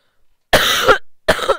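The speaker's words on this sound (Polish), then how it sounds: "Zasłoniłem usta, ale to i tak nic nie daje przy kaszleniu." Two harsh coughs sound up close into a new microphone, the first long and rasping, the second shorter after a brief pause, with no talk between them.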